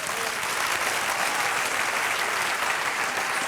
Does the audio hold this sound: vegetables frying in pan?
no